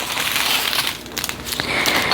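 A knife cuts open plastic bags holding diamond-painting drills, giving close crinkling and crackling plastic sounds with a few sharper rustles and no talking.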